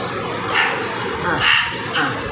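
A pet crow named Mugizhi caws in three harsh, spaced calls near a house-front tree where it nests, heard close over a steady background hiss.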